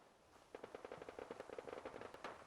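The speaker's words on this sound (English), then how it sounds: "All right, we've got more gunfire." Automatic gunfire in the Fallout 4 video game: a rapid, even string of shots lasting about two seconds, faint and distant.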